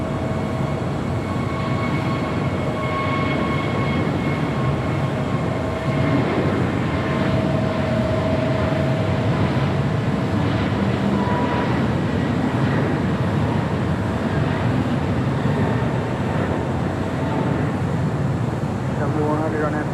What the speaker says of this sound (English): Japan Airlines Flight 16 coming in from Tokyo Haneda in a 777-300ER, just about 30 seconds away from touching down on runway 24 left